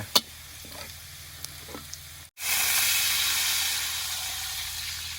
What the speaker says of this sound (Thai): เราต้องเจียวกระเทียมเนี่ยให้เหลืองหอมก่อนนะยายจอ่า